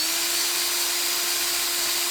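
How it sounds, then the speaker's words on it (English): Small electric drill turning at low speed with a tiny bit, starting a hole while fitting an aftermarket tail light on a BSA 441 Victor motorcycle; a steady, fairly quiet motor whine with a constant tone runs alone throughout. "I'm running this drill low."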